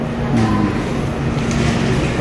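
A subway train at Myeongdong station in Seoul on a snowy day, a loud steady rumble of rolling cars with faint rail clatter.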